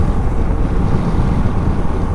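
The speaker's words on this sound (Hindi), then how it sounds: "ठंडी हवा चल रही है" Cold wind roars over the microphone on a motorbike ride through the hills toward Solan, a loud, steady broadband buffeting with no voices.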